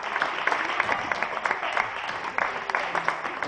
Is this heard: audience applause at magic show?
yes